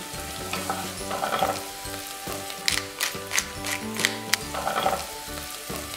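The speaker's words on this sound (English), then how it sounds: "We fry those vegetables in a little olive oil, season it well, add in some herbs." Diced vegetables fry in a little olive oil with a bright, steady sizzle, broken by a cluster of crisp clicks and scrapes from a utensil against the pan, up close and moderately loud.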